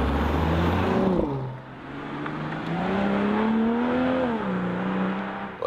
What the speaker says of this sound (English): we put the BMW M440i as a convertible here in the Sport Plus mode and heading on to the motorway